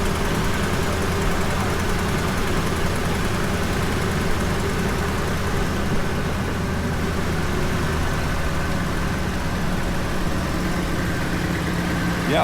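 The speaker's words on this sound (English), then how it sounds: "Now we're going to test it with the remote start running because the key is off." A 2008 Ford F-250 truck engine idles steadily on remote start with the key off, a constant low mechanical rumble and hum that stays even and unbroken from start to finish.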